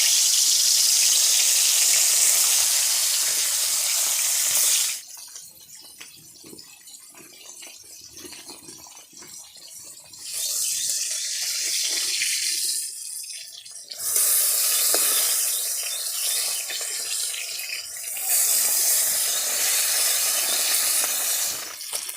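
Bata fish frying in hot mustard oil with turmeric in a kadai, a loud steady hiss that softens in the middle and then swells again in bursts.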